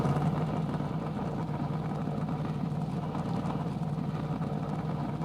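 A car engine in a modded video game idles with a steady low rumble that runs unchanged throughout.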